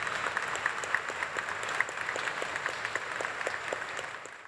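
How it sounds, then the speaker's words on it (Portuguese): Applause at the inauguration ceremony of a re-elected governor of Rio de Janeiro after he signs the oath of office, a moderate, fairly distant crowd clapping steadily and fading slightly at the end. "O governador reeleito assinou o termo de posse e foi aplaudido."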